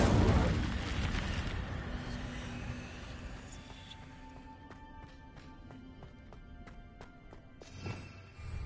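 The Incendio fire spell cast in the Hogwarts Legacy game opens with a loud, rushing burst of flame that fades away. Faint, irregular clicks and small effects follow, with no talk.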